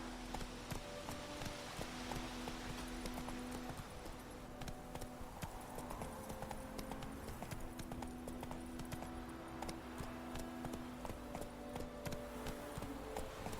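Roach, Geralt's horse in The Witcher 3 on PS4, galloping: rapid rhythmic hoofbeats run continuously, moderately close, under steady game music and ambience, with no talk.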